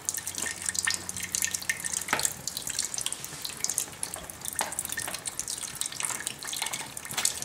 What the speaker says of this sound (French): Le jus de la tomate va couler